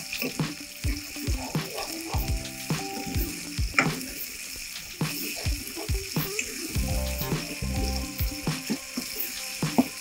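Phool makhani masala curry sizzles in oil as a spoon stirs and scrapes the pan in repeated knocks and rattles, quiet and close, with a faint hum underneath.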